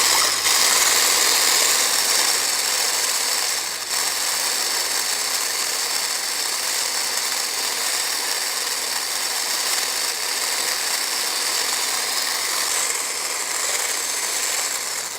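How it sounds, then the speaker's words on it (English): An electric mixer whisks muffin ingredients on low speed, a steady mechanical whirring drone with a faint rattling texture that stays even and close for the whole stretch, with no talking. "I'm just going to whisk those together on a low speed just to get them all combined"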